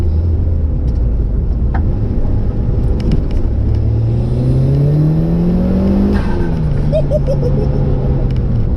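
A modified Mitsubishi Evo 5 engine rumbles deep, throaty and loud continuously, its pitch rising as it accelerates, then dipping and climbing again.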